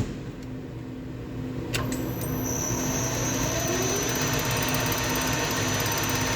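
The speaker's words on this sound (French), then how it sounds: "Je vais mettre la machine en rotation." Milling machine spindle spinning an edge finder, a steady loud mechanical whir with a high whine that rises and settles after start-up, continuous with no talk.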